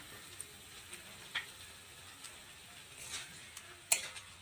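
Spices with salt and chili powder sizzle softly in a pan while being stirred, a faint steady hiss with occasional light scrapes and ticks of a spoon against the pan.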